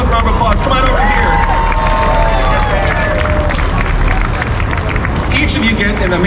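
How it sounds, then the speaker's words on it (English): Crowd applause and cheering for two game contestants at an outdoor Times Square show, blended into busy street noise, babble and passing traffic. "Let's give them both a round of applause."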